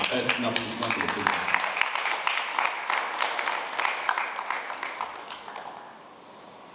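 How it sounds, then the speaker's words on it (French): An audience at a constitutional ceremony in Guinea applauds the president, a dense sustained clapping that swells for several seconds and then fades, with a voice speaking underneath at the start. "Un applaudissement pour le président."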